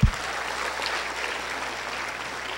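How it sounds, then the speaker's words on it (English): Applause from a Filipino audience at an inspirational talk, a steady moderate patter of many hands clapping after a brief thump at the start, continuing evenly without voices. "give yourselves a round of applause"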